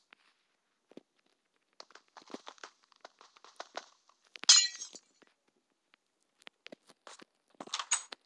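Glass blocks shatter in the video game Minecraft as short, crisp breaking clinks, scattered in quick irregular bursts with a louder crash near the middle and another cluster at the end.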